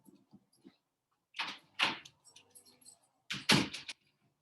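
A house door opens and shuts to let a dog out, giving a few close clunks and rattles of the latch and frame in two bursts amid near silence.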